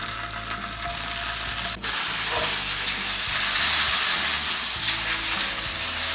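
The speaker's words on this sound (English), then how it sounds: "So I'm going to pan fry on both sides of the tofu until they are golden brown and a little bit crispy on the side." Tofu slices pan-frying in a tablespoon of vegetable oil for spicy braised tofu, a steady loud close sizzle with a brief dip partway through and no talking.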